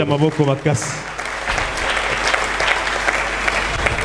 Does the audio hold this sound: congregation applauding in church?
yes